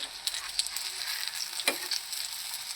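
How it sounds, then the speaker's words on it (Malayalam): Banana box snacks shallow-fry in a little oil, giving a soft, continuous sizzle broken by a few light stirring scrapes, fairly faint and close with no talking. "ഫ്രൈ ചെയ്തെടുക്കാം അതിന് ലേശം മാത്രം ഓയിൽ ഒഴിച്ചു കൊടുക്കാം ഇതിലേക്ക് ഓരോന്നിങ്ങനെ വെച്ചു കൊടുക്കാം"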